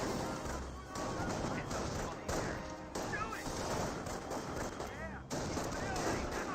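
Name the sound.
gunfire in Company of Heroes 1 video game battle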